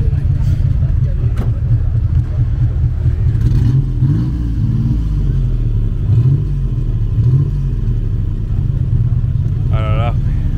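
A classic Citroën SM engine runs nearby at the historic Monte Carlo rally, a steady low idle rumble with slight revving swells, while people talk over it throughout.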